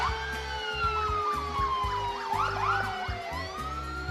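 Several emergency vehicle sirens wail together at a community festival parade, layered rising and falling tones sounding close and loud over a steady low engine rumble.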